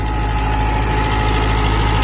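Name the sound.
16-year-old tractor engine running with rotavator in wet field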